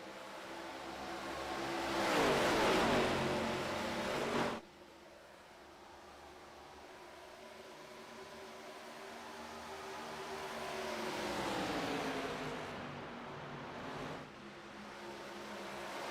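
ARCA stock cars racing at Charlotte Motor Speedway in a close four-car pack, engines swelling loud as they pass nearby, fading, then building again in a second sweeping pass.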